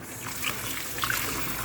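Water scooped and poured by hand over lentils being washed in a kitchen, a steady close splashing trickle running the whole moment without any talk.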